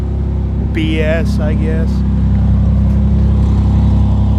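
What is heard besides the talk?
1994 Ford Ranger Splash engine cold start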